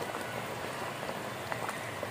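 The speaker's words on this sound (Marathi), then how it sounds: "ते गरम पाणी थोडं टाकायचं याच्यात" Hot water poured into a pan of Malvani-style chicken curry base with turmeric, giving a steady, close rushing hiss with small bubbling splashes and no voices.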